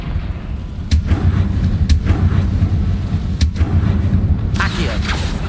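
In the Hogwarts Legacy video game, the fiery blast spell Confringo goes off as three sharp cracks about a second apart over a steady low rumble of game background, with a brighter burst near the end.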